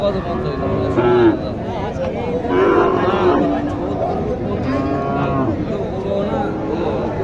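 Shahiwal and Jersey heifers moo a few times at Mataji cattle market in Naogaon, Bangladesh, long low calls spaced apart, over a busy crowd of chattering voices.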